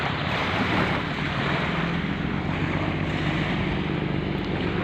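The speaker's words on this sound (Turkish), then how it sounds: "Feribot ayrılıyor iskeleden." A steady low rumble of a ferry engine as it departs the pier mixes with wind and waves, continuous and fairly loud, with no voices.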